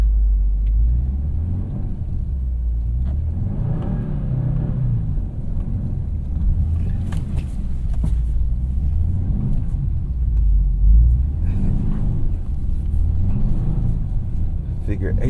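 A Subaru WRX doing wide donuts in snow on Bridgestone Potenza all-season tires, its engine rumbling and revving in repeated swells, with a driver talking over it.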